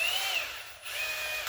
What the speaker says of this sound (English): put it in your little old drill, and you come right down to the bottom line right there